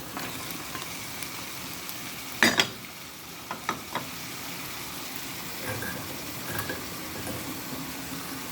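Carrots stir-fried with minced pork in a pan give a low continuous sizzle, broken by a few sharp spatula scrapes and knocks against the pan, heard up close.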